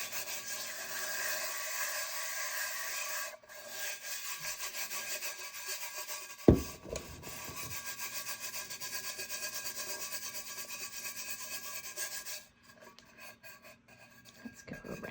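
A glittered tumbler is smoothed by hand in steady circles, giving a close, continuous rubbing and scraping sound that runs for most of the stretch, broken by one sharp knock, and then drops away near the end.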